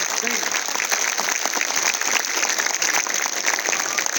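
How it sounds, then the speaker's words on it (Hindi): A school-event audience applauds loudly and continuously, a dense even wash of many hands filling the hall from start to finish. "बहुत तालियां बजाएं।"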